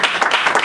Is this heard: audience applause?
yes